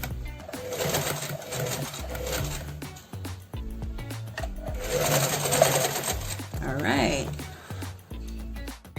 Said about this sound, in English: I'm just using both hands to guide the material onto the machine